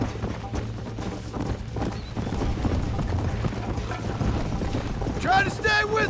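A horse gallops in the Red Dead Redemption video game, rapid hoofbeats under continuous action, with a horse neighing near the end and voices talking.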